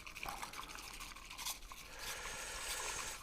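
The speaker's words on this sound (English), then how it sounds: "What is important when you're whisking the matcha" Matcha tea being whisked in water at about 70 degrees Celsius, a quiet, continuous wet swishing and stirring with a few brief louder scrapes, no talk.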